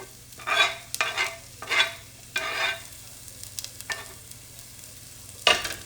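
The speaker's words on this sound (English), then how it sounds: "So I'm going to saute those." Chopped onion, a garlic clove and scallions being stirred and sautéed in a pan for Jamaican rice and peas, with several scraping stirs in an uneven rhythm over a soft steady sizzle, close up and without speech.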